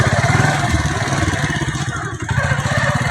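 A motorcycle engine runs close by with a steady, throbbing mid-pitched rumble that holds through the whole stretch, with slight dips and no talking.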